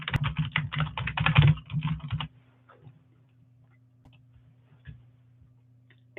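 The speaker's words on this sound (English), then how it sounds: "I'm just going to type this out here" Rapid typing on a computer keyboard, a dense run of close, crisp key clicks for about two seconds, then near silence with a steady hum and a few scattered taps.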